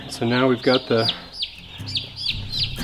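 Broad-breasted white turkey chicks, a day old, cheep in high, repeated little peeps close by while someone speaks over them.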